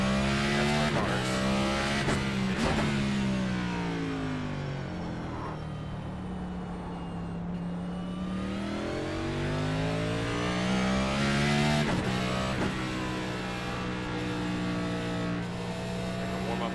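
A Next Gen NASCAR race car engine in the iRacing game at Sonoma runs a warm-up lap, droning loudly and steadily as it rises and falls in pitch with shifts and throttle changes, alone without talk.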